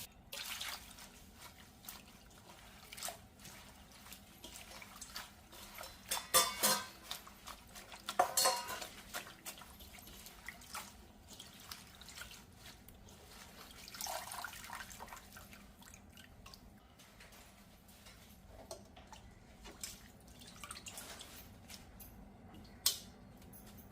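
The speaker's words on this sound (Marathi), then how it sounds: "आधी धुवून घेते आणि चाळणीवरती नितळत ठेवते" Water drips and trickles from washed mustard greens draining in a colander while dishes and metal utensils clink now and then, a few louder clatters standing out against quiet kitchen background.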